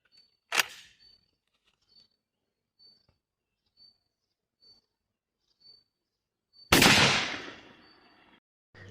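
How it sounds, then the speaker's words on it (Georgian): Beretta Belmonte 1 Mk2 shotgun with a factory three-slot choke firing a Remington No. 5, 36 g wad cartridge: one loud, sharp blast with a ringing tail. A quieter crack comes earlier, with faint regular beeps in an otherwise quiet background. "მომდევნო სროლა თავისი ქარხნული 3 ჭრილიანი ჩოკი, ვაზნა 5 ნომერი 36 გრამი კონტეინერიანი"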